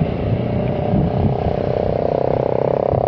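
A motorcycle engine drones loud and close on a city road, its exhaust pulsing in a rapid, even rhythm that holds steady for a few seconds.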